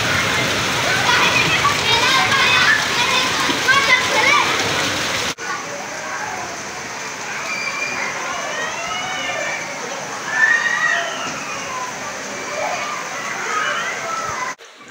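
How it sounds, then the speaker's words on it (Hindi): Heavy monsoon downpour pours and splashes steadily, water streaming and dripping near a doorway under a leaking roof, with voices talking over the constant roar. "ये जी बारिश का पहला नज़ारा।"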